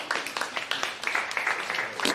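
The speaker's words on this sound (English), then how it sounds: "I'd like you to give him a round of applause just to make him feel welcome" An audience applauding to welcome a shy guest, a brief, moderately faint patter of many hands clapping, without talk.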